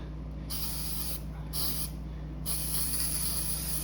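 Citrus Strip paint stripper is sprayed in bursts of bright, close hissing, with a short spray, a pause, another brief spray, then a longer continuous one over a steady low hum.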